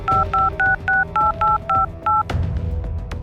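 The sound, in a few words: telephone dialing tones in a cartoon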